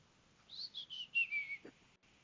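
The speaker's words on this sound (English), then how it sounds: "I was whistling." A short, quiet run of human whistling, a few quick notes sliding downward, close by and alone.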